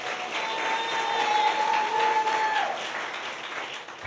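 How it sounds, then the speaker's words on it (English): An audience at a public service award ceremony applauds the award recipients, a steady wash of many hands clapping that swells and then slowly fades, with no talking. "Let's give them all another round of applause."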